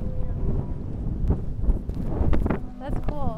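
Gusty rushing air whooshes and roars as waves force air through holes in the rocky shore at Zadar, Croatia, over a deep, rumbling low drone, loud and continuous, with faint voices mixed in.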